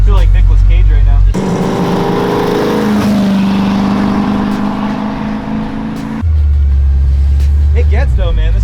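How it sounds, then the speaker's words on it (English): A 1969 Ford Mustang Mach 1 with a custom exhaust and long-tube headers rumbles loudly under way. Its low, steady roar fills the middle of the clip, and people talk before and after it. "The exhaust sounds great."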